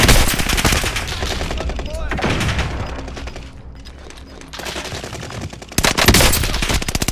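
Gunfire in Call of Duty: Modern Warfare, dense bursts of automatic fire and rapid shots, loud and close, with a brief lull midway before another heavy burst.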